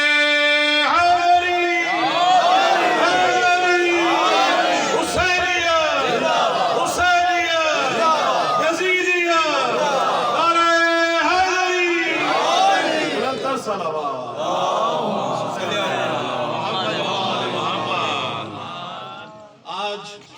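A large crowd at a Jashan religious gathering in Multan shouts a slogan back in loud, rhythmic unison, the bursts of massed voices repeating and swelling close by.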